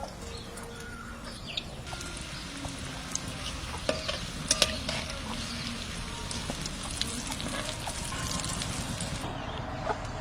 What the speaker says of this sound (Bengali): আস্তে আস্তে জাল দিয়ে ভাজা করতে হবে